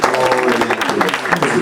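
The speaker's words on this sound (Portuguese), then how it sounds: "Oh, aplauda o nome de Jesus, querido." A congregation applauding at a women's church congress, a short, loud burst of close clapping from many hands, mixed with voices talking and cheering through it.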